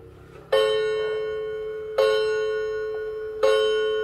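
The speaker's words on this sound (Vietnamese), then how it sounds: "Con này thì nó có cái tiếng chuông như này, em sẽ test cái chuông cho các bác." A Japanese wall clock strikes its chime bell three times at even intervals, each ring close and bright with a long resonant decay, heard alone in a quiet room.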